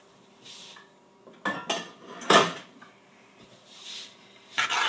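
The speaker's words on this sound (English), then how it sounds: "Now I am going to turn the heat up on the burner and dump in my pasta." Cooked pasta is tipped into a pot on a hot burner, giving a few separate clattering bursts of metal and cookware knocks with quiet gaps in between, close by and with no talking.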